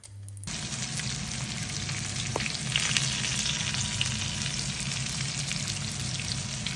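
A pike fish steak frying in oil in a pan, the loud, dense sizzle cutting in abruptly after a brief quiet moment and holding steady to the end.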